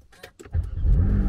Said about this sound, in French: On a démarré et ça fait bizarre d'entendre une GT3 aussi silencieuse.